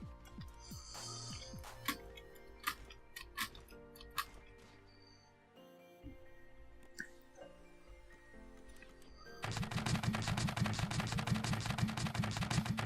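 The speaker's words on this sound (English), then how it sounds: "Now these spud guns will get us pretty close, but not quite there." Spud guns firing in the building game Scrap Mechanic, scattered sharp popping shots and mechanical ticks at first, then a dense, loud burst of rapid-fire shots with a rumbling undertone filling the last few seconds.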